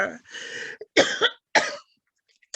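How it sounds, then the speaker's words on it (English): Three harsh, close coughs in quick succession, separated by brief silences. "I haven't been coughing all day, but here I go right now."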